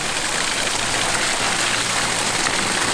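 River water driven by a pump with no electricity gushes into a drum, a loud, dense, steady splashing rush up close with no talking.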